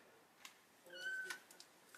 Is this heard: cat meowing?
yes